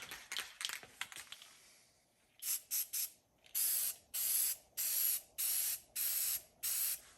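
Spray paint hisses onto a vintage Mann fireman's axe in a paint booth, starting with a few short taps. Then come about eight steady, even bursts, loud and close, with brief pauses between them.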